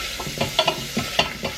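A spoon stirring pork and vegetables frying in a pan, making several quick scraping strokes in an even rhythm over a soft background sizzle.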